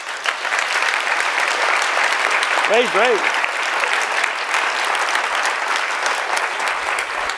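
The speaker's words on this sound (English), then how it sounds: "Big round of applause" An audience at a lecture event applauds in a steady, sustained round of clapping, with a brief spoken word and a short vocal sound rising above it partway through.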